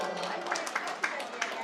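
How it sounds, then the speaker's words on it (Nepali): Scattered applause at a Hindu religious gathering, a Srimad Bhagavat recitation in Nandanagar, Kapilvastu, light claps rising in a few brief bursts under a speaking voice. "जोरदार तालीले सम्मान गरौँ।"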